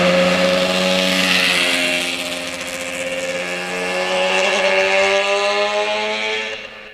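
Restored 1985 Yamaha RZ350 two-stroke motorcycle running through its exhaust pipes, a continuous buzzing drone whose pitch slowly shifts as revs change, close and fairly loud, tapering off at the end.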